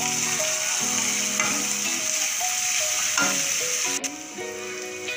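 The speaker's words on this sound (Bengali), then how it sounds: "ভালো করে মশলাটা মিক্স করে দেবো পেঁয়াজের সাথে" Chopped onions frying in a pan with spices, green chillies and chilli sauce while being stirred, a loud continuous sizzle broken by scraping strokes of the spoon, with no talk.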